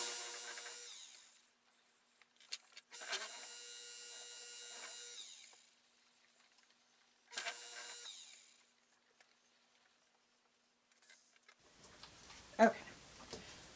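A trimming tool scrapes the undercut double footring of a huge clay platter turning on a pottery wheel, giving bursts of gritty scraping separated by near silence, close by.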